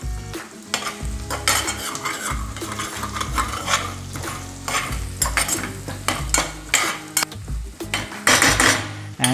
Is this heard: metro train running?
no